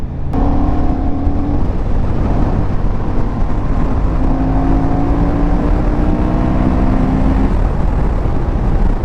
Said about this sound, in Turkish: Motoru soğutmam lazım diye gaz açtım.